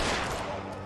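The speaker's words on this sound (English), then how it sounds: "I missed all those shots" Rapid gunfire in L.A. Noire, a dense burst of close, loud shots running steadily through the moment and tapering slightly at the end.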